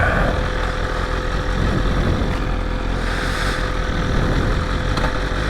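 A BMW S1000RR sportbike idles unevenly with a suspected throttle body fault, a steady nearby engine drone with a faint whine and slight fluctuations, no voices.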